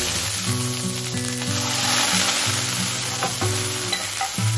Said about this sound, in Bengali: তাড়াহুড়োতে কড়াইটা এত বেশি গরম হয়ে গেছিল, আদাটা ছিটলো ভালোভাবে